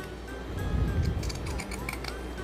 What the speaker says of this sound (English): I'm going to go ahead and start pinking the edge of this.